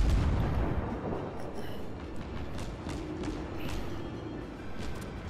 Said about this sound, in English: I'm going to go ahead and open up the guns on him